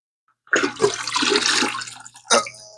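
Water gushes into buckets beside a shrimp pond being torn down, a loud steady pour that starts abruptly, stops, then resumes in a short second burst.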